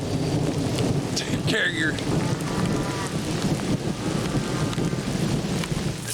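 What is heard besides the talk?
rain with thunder over a sweet potato patch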